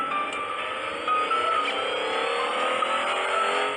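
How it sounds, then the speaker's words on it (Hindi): A car engine drones steadily while the car is driven back and forth, with a continuous motor tone that shifts slightly in pitch, loud and close throughout. "बैठकर गाड़ी को आगे पीछे चलाने लगा"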